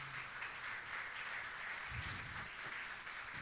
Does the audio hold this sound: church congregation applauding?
yes